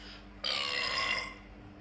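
A single drawn-out belch, rough and raspy, rises suddenly and lasts nearly a second before fading into quiet.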